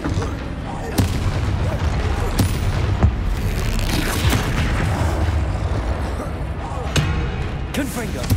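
Explosive fire spell cast in the Hogwarts Legacy game, one of a rapid chain of spells in combat: repeated sharp booming blasts around 1, 3, 7 and 8 seconds over a dense, continuous wash of battle noise and effects.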